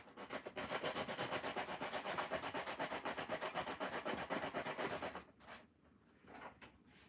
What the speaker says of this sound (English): You can take a piece of sandpaper